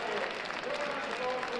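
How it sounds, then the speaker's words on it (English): Crowd applause at a 1996 Kilkenny senior hurling county final after the final whistle, steady dense clapping held at an even level throughout, with no clear voices on top. "the crowd applauds"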